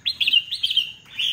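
A caged wild-caught red-whiskered bulbul chirps close by in a quick run of bright, warbling notes, then pauses briefly before another phrase.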